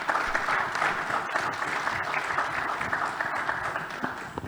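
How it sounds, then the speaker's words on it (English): Steady, full applause from a conference audience greeting a panel at an Africa infrastructure finance summit, dense and continuous throughout with no voices standing out. "Ladies and gentlemen, a round of applause from my panel,"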